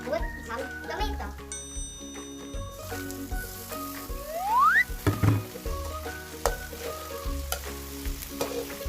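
Tomatoes fry and get stirred in a pan with pork and eggs. A soft, constant sizzle with scraping stirs sits under loud tonal music-like sounds and a rising whistle, and there is no clear talking.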